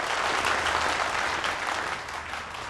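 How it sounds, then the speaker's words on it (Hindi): An audience at a magic show applauds with dense, sustained clapping that stays loud and even before easing slightly at the end. "ऑडियंस इसलिए तालियां बजा रही है"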